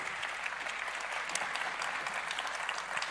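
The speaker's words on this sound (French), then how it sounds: "On l'applaudit très fort." Audience applause fills a conference hall at a cloud computing event as presenters leave the stage; a dense, even wash of clapping with no speech.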